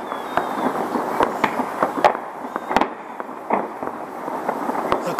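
New Year fireworks bursting outdoors, a rapid series of sharp cracks and booms of varying loudness, some near and some distant, continuing throughout with faint voices in the background.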